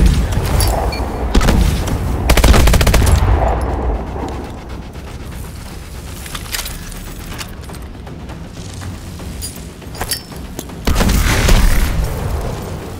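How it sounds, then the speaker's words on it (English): Several grenade explosions from the Call of Duty: Advanced Warfare grenade training exercise, heavy booming blasts around 1-4 seconds and again near 11-13 seconds, with a rumbling game soundscape between them and no talk. "Activating grenade training. Grenades only"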